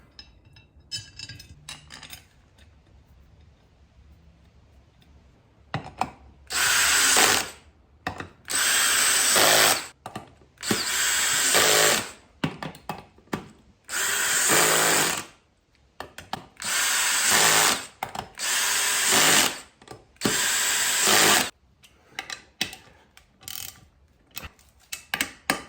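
A power tool tightens the wheel onto a new rim fitted with GBC Dirt Commanders on a Can-Am Renegade 1000 XXC, several loud whirring, ratcheting bursts of a second or two each, separated by short pauses, close by and without speech.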